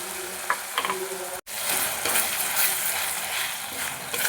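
Ground spice paste with cashews frying in a pan for a vegetarian paneer curry gives a loud, steady, close sizzle with stirring scrapes, broken by one brief dropout partway through.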